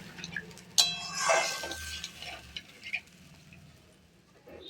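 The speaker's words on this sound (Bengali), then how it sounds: "এবার দিয়ে দিলাম গরম জলটা। দিয়ে একটু ফুটতে সময় দেব।" Hot water poured into a pan for a mustard-poppy bhola fish curry hisses and sizzles in a sudden loud burst, then settles into a softer bubbling sizzle with light clinks.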